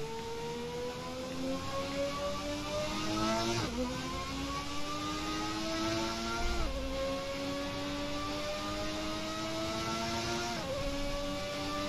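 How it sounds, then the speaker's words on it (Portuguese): Ayrton Senna's McLaren Formula 1 car in the F1 2020 video game accelerates hard, its high-pitched engine climbing steadily through the gears with three distinct upshift drops, a continuous close racing whine. "se você atocha o pé no acelerador, o carro..."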